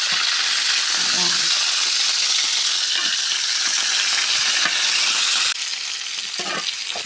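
Onions frying in a hot pan, a loud continuous sizzle close up, easing slightly partway through with faint stirring and clinks, and some talk underneath.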